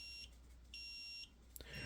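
Two high, thin electronic beeps, each about half a second long, from a nearby DOVOH laser level warning it is not yet level, followed by a brief clatter.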